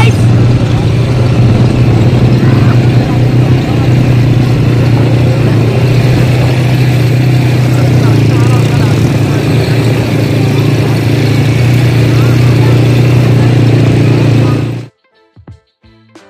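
Dune bike engine running steadily on a desert safari in Dubai, a loud continuous low hum with broadband roar for about fifteen seconds before cutting off abruptly.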